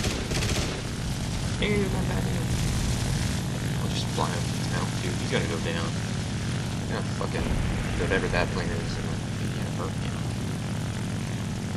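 Propeller-driven biplanes in the War Thunder combat game drone steadily and loudly throughout, with scattered bursts of gunfire and a voice speaking over the engine noise.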